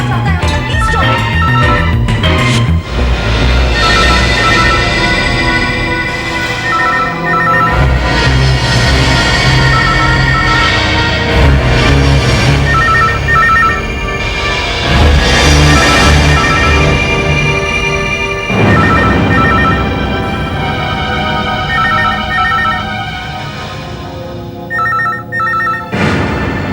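An old-style telephone bell rings loudly and repeatedly in a house, in bursts with short gaps, over tense background music.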